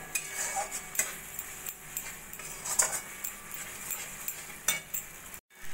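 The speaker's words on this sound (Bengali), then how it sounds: "পোস্ত, টমেটো, কাজুর পেস্ট দিয়েও আমি কিছুক্ষণ কষিয়ে নিচ্ছি।" A paste of poppy seeds, tomato and cashew is stir-fried in a pan for a katla fish curry, with soft sizzling and intermittent sharp scrapes and clinks of a spatula against metal, quiet and close.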